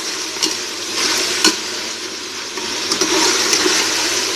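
Masala spices roast in a pan with a loud, continuous sizzle close by, while a utensil stirs and scrapes through them at irregular intervals and no one speaks.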